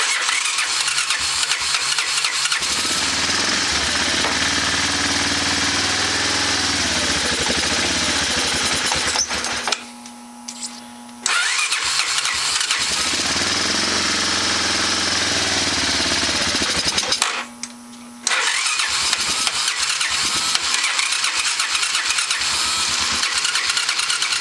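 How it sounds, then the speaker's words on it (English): A four-wheeler ATV that hasn't run in a while is choked and cranked. Its engine catches and runs with a loud, rough chugging, cuts out twice into near silence, then fires up again and keeps running. "we're going to see if we can get this thing to crank"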